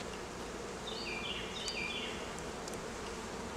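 Honeybees buzz around an open hive during a brood box swap, a steady close hum with a few higher passing whines from individual bees, fairly quiet and heard without talking.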